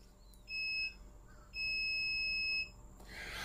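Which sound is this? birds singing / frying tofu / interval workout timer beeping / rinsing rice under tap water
interval workout timer beeping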